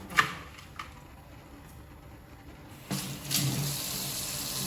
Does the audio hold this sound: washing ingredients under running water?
yes